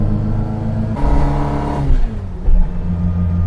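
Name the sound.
Reliant Fox small engine revving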